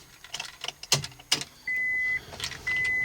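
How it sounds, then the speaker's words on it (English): Ignition key jingling and turning in a 1999 Honda Accord EX, a run of close metallic key clicks and rattles followed by two sustained electronic chimes from the dashboard, no engine start. "Okay, well let's turn the key,"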